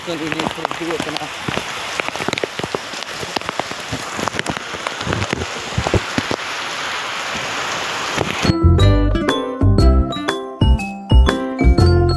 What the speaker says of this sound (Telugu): వర్షం అయితే పెరిగిపోయింది అండ్ కెమెరా గిటం చాలా నాయిస్ వచ్చింది.